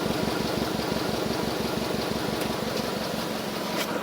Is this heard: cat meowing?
no